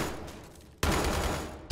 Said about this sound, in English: Gun-powered vehicle.